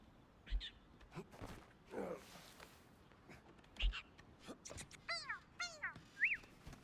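Crow caws ring out in Indiana Jones and the Great Circle, a run of several harsh, descending calls near the end after scattered game sounds, loud and close against a quiet background with a little talk earlier.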